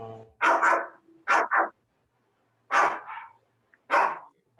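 A dog barks somewhere nearby in a handful of sharp, separate barks, some coming in quick pairs, with short silences between them.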